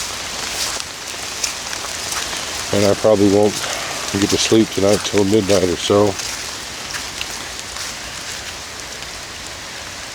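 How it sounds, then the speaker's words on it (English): Steady evening rain pattering over a tilapia pond with a constant hiss of drops on water and surfaces, while someone speaks briefly partway through. "If it keeps raining like this for another 2 hours, I'll come down and knock that pipe loose."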